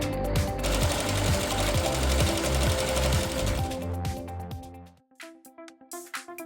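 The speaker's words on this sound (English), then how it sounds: "Puff embroidery stitches over foam." An embroidery machine stitching puff embroidery over foam in a printing shop, a loud rapid rhythmic hammering for about five seconds that stops, followed by quieter mechanical clicks.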